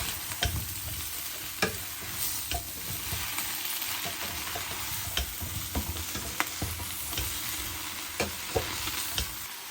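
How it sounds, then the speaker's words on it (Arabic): Kibbeh filling stirred in a pan, a utensil scraping and clinking at a steady irregular pace over a constant sizzle of frying, with sharp taps now and then and no voices. "شوفوا اظل نقلب بيها بهاي الطريقه"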